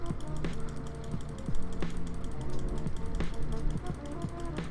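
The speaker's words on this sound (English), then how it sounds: "I'm sure you can hear my mouse right now." A computer mouse clicks repeatedly in a rapid, ratchet-like rhythm during a game trading session, steady and close over a constant background hum.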